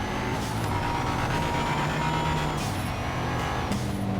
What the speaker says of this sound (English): I guarantee you heard the rev limit there.